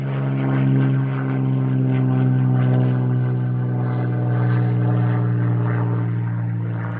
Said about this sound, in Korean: 비행기다!